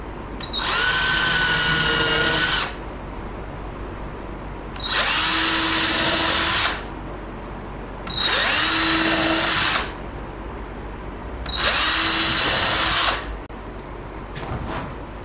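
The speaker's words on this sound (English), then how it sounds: "this is just normal pine, so I'll be using a drill bit a third the size of the actual fixing screw" A power drill bores pilot holes in ordinary pine for butt hinge screws, the bit a third the screw's size: four loud whirring bursts of about two seconds each, separated by short pauses, with no talking.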